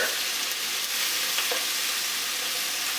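Meat searing in a hot pan, a dense and continuous loud sizzle with a few faint crackles, close up and without any speech.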